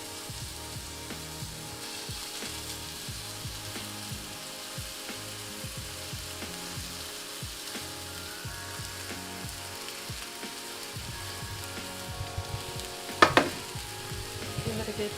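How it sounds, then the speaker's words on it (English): Continuous sizzling of meatballs frying in a cast iron pan, steady and close, with occasional scraping and a brief clatter near the end. "I'm going to fry it into my cast iron."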